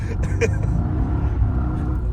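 A Mercedes-AMG engine runs loud and steady with one wheel spinning, a continuous low rumble and roar filling the whole stretch, with brief higher scrabbling bursts near the start.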